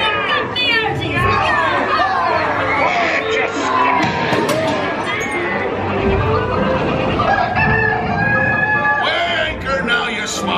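Hens cluck within a dense, continuous mix of crowd murmur and animatronic voices in a Disney pirate ride scene at Magic Kingdom, with the clucking partly buried under the steady background noise.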